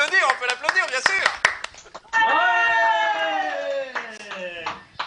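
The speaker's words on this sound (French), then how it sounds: "Ouais, on peut l'applaudir, bien sûr." Studio audience at a French web TV cooking show applauding, with short bursts of claps and cheering mixed with loud voices and sustained tonal sound, fairly close.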